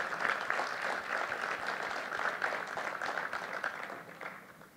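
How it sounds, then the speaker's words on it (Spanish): Dense, steady audience applause at a mining industry congress, sustained for several seconds at moderate volume before beginning to taper off. "Damos entonces también un fuerte aplauso a doña Karen Flores"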